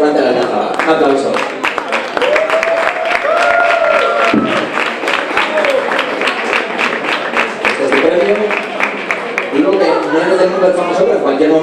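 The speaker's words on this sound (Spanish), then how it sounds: "Un aplauso." Audience clapping at an awards ceremony, steady and dense for about twelve seconds, with crowd chatter, cheering and a voice speaking over it.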